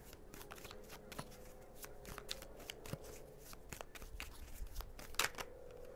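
A deck of tarot cards is shuffled by hand at close range for a reading, giving a soft continuous riffle of rapid papery flicks and slaps lasting several seconds, with no talking.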